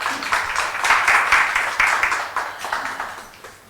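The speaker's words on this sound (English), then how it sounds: "Can we welcome them with a huge round of applause?" A festival audience at a literature and art event applauds to welcome speakers, a moderate wash of clapping from a mid-sized crowd that swells, then gradually tapers off.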